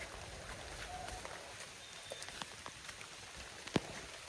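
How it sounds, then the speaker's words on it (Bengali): Rain falls outdoors on a muddy road, a faint, steady patter with a few sharper drops and taps breaking through. "দূর বৃষ্টি পড়তেছে"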